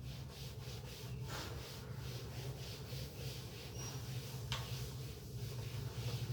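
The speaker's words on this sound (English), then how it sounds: "So I am rubbing the board." A board eraser rubs back and forth across a classroom board in soft, rhythmic scrubbing strokes, faint and close, over a low room hum.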